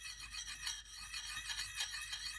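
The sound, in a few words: kukri blade being sharpened on a jadeite sharpening stone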